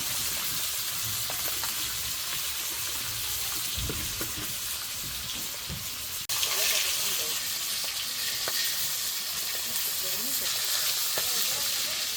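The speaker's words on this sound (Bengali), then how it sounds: "কড়াইও গরম হয়ে গেছে। এখন সরষের তেল দিয়ে দিব" Mustard oil hissing in a hot wok over a village wood fire, a dense continuous sizzle with a sudden surge partway through, steady and close, no talking.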